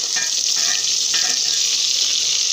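Onions cooking in a pan give off a constant, dense frying hiss that stays even and fairly loud throughout, with no talk.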